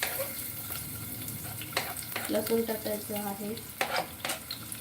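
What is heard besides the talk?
grated garlic frying in a pan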